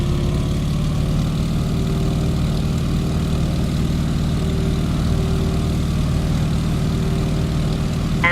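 Stearman biplane in Microsoft Flight rolling down the runway for takeoff, its radial engine and propeller droning as a steady, loud, continuous drone with no voices over it.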